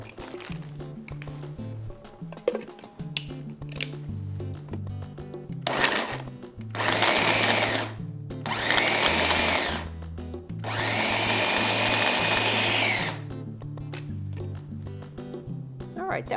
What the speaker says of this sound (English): The double blades in this machine really help to grind it up evenly.